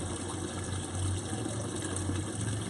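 Steady, continuous rush of water flowing from an aquaponics tank into a sump tank, a close, even gushing with no pauses and no voices over it.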